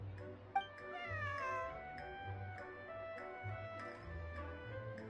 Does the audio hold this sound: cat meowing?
yes